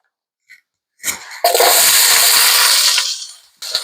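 Onions are thrown into smoking-hot olive oil and burst into a loud, sustained hiss and sizzle close up, fading slightly before a second surge of sizzling at the end.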